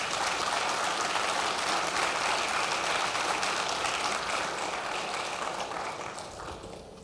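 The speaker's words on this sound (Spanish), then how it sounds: "Denle un aplauso al Rey." Church congregation applauding during a Sunday service, a dense sustained clapping that fills the space evenly and slowly fades toward the end.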